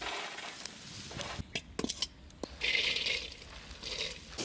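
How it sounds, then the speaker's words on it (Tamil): Winged termites (esal) fry in a pan while being stirred: scattered scraping clicks and knocks of a utensil give way to a steady, moderate sizzle near the end. "ஈசல் வறுத்து எடுத்துடலாங்க"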